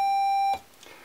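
A steady, pure synthesizer tone from a modular VCO, taken unbuffered from a passive multiple, holds loud and constant for about half a second, then cuts off abruptly, leaving faint room noise.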